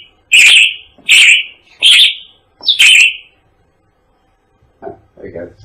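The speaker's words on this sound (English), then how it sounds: "So that's a bird, right?" Recorded bird chirps come in four sharp, evenly spaced bursts, loud and close, followed by a brief faint voice near the end.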